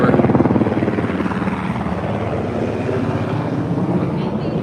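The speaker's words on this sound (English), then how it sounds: "Helicopter flyover." A helicopter passes overhead in an urban Georgetown, Washington D.C. street setting, its loud, steady rotor chop filling the whole stretch and fading slightly toward the end.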